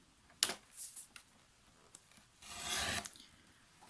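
Paper being cut for a scrapbook album, giving short rasping, scratchy strokes and a longer steady scrape near the end, close and quiet, with no talking.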